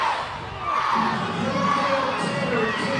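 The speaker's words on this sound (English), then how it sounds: "Full capacity crowd getting into the yes, yes, yes chant." Full-capacity crowd at a Savannah Bananas versus Party Animals baseball game in Texas chanting together, a loud, dense roar of many voices swelling after a brief dip and holding steady.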